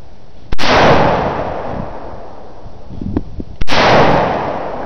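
Two sharp, loud reports from a semi-automatic rifle fire a few seconds apart, each a close crack with a brief rolling echo, with faint handling noise in between.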